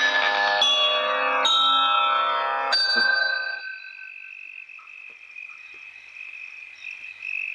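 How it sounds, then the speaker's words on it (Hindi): Several bright metallic bell strikes in quick succession, each ringing out, then a long high tone fading slowly into quiet. "तुम दोनों घंटी बजाते रहना"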